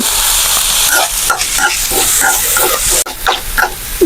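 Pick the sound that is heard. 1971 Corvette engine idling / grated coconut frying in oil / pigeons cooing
grated coconut frying in oil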